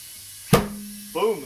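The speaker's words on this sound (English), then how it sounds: "This bead should seat. You're gonna hear a pop." A tire bead seats during inflation on a GM wheel being serviced for its TPMS sensor, giving a single sharp, close pop followed by a brief hiss and a short voice.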